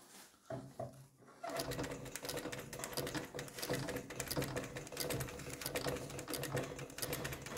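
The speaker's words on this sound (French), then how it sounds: "Donc là on est avec un pied spécial pour les fermetures éclair." A sewing machine fitted with a zipper foot stitches a zipper in an upholstery workshop. After a brief start it settles into a loud, steady, rapid mechanical chatter that runs close and continuous.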